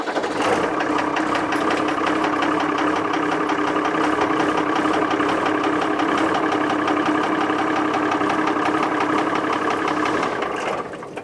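An engine runs steadily at close range with a loud, fast, mechanical clatter that holds an even rhythm throughout before easing slightly at the very end.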